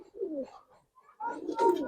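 Colored pigeons, snake-eyed birds kept by a Bangladeshi fancier, give two bursts of soft, throaty cooing close by, separated by a short pause, with no talking over them.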